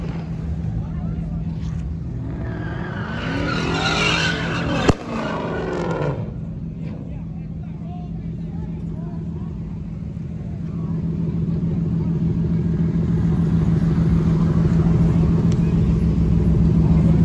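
A Dodge Hellcat close by, its engine rumbling low and steady, with a rising sweep of revving or tire noise in the first seconds, a sharp pop, then a louder sustained drone.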